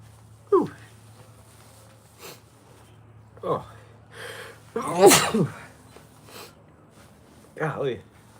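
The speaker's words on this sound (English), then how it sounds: "Hold on, I gotta sneeze." A person sneezes sharply once in a quiet room, with short sniffs and breathy sounds scattered before and after.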